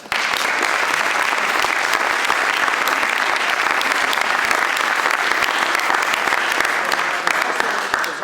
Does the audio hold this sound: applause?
yes